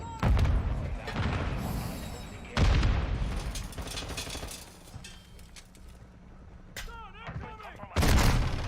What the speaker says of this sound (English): Ah, everything's exploding in there.